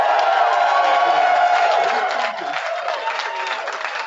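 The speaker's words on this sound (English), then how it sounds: "Let's give a huge round of applause for Jim" Audience applause for a speaker named Jim at a live motivational seminar, a dense crowd clapping steadily with some cheering, dipping slightly in level partway through but continuing to the end.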